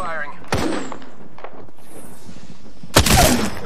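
Video game gunfire: two sharp, loud shots, one early and one near the end, with a voice talking between them.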